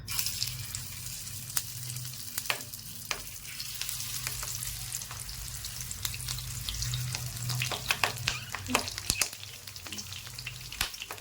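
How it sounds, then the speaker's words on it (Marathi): Besan-stuffed green chilies sizzle in hot oil on a low flame, a steady broadband hiss running throughout with scattered sharp crackles and pops, close and fairly loud. "तेल चांगलं तापलेलं आहे आता गॅसची फ्लेम एकदम कमी करूया आपण आणि एक एक मिरची त्याच्यामध्ये अशी टाकूया"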